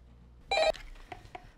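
A short, loud electronic telephone ring lasting a fraction of a second, followed by a few fainter tonal blips in a quiet room.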